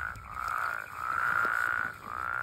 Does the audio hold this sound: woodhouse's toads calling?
yes